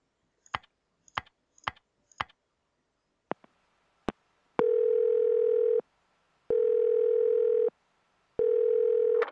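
A phone number is punched in on a telephone keypad in the Silent Hill 4 game, with several sharp button clicks followed by a ringing tone that repeats in long, evenly spaced bursts, close and clear with no talk.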